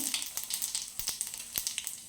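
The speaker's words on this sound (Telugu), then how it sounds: "కడాయి పెట్టుకొని ఆయిల్ పోసుకున్నాం. ఇప్పుడు మనం పోపు వేసుకుందాం." Cumin seeds, mustard seeds and a dried red chilli sizzle and crackle in hot oil in a kadai, a steady hiss dotted with quick pops throughout.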